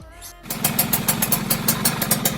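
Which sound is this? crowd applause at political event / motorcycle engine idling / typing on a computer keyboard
motorcycle engine idling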